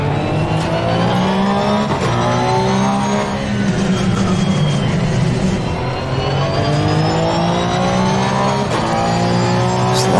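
Race car engine in Assetto Corsa Competizione at Spa, loud and continuous, with repeated rising revs through the gears and brief lifts as the car corners, and no talking.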